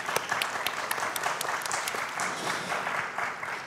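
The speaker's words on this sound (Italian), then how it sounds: "Lo possiamo accogliere con un applauso." Audience applause welcoming a student onto the stage at a science event, steady crowd clapping throughout, moderately quiet and without talk.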